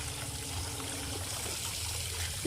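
Water trickles and splashes steadily as it is poured over Rio the dog bathing in a tub, a continuous near wash of liquid with a low hum beneath and no talking.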